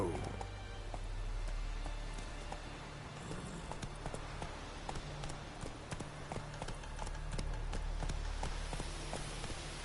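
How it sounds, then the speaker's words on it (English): Horse hooves clip-clop at a steady trotting rhythm in The Witcher 3, a crisp repeated series of hoofbeats over a low ambient hum, moderately close and quiet. "Bueno, iremos a caballo."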